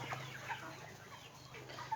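Faint clucking from chickens, a breeding rooster and hens in a Thai backyard coop, with a few soft, scattered calls over a quiet background.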